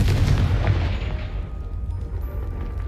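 Confringo blasting spell in Hogwarts Legacy detonating against a pile of blocking debris: one heavy, booming explosion up front that rumbles and slowly fades into a lingering tail.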